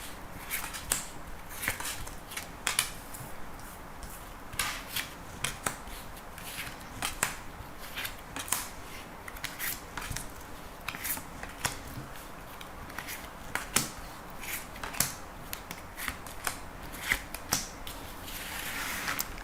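Deck of tarot cards being shuffled by hand: steady, close riffling and slapping of cards in quick irregular bursts, continuing throughout with a faint background hum.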